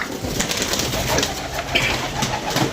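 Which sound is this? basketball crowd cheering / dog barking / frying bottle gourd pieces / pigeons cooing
pigeons cooing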